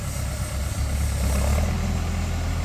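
A Kubota M5000 tractor engine idles with a steady, low, throbbing rumble, close and continuous, with no voices.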